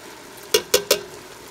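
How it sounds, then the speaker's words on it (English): Canned baked beans in chili sauce tumble into a cooking pot, landing as three quick, close thuds with wet splats in a row, then quiet. "So first thing I'm going to add in are the 2 cans of the baked beans and chili sauce"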